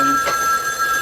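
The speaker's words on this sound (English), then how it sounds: "that's the phone." A telephone gives one short electronic ring inside a home, loud and near, standing alone without talk.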